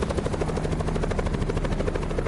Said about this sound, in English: Maybe I can crash the helicopter into them